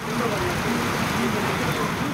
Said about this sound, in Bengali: সাগর পাড়ের জেলাগুলোতে এর প্রভাবে বইছে ঝোড়ো হাওয়া ও বৃষ্টি।